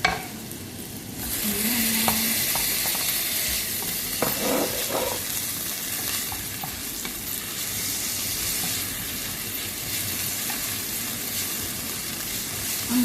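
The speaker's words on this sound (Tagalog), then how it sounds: "igigisa natin siya sa butter lang. With sibuyas, bawang, kamatis." Onion, garlic and tomato sautéing in butter for a simple shrimp dish, a steady close sizzle and hiss with occasional stirring clatter, one brief word spoken near the start.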